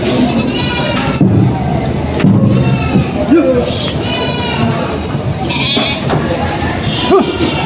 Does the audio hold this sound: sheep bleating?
yes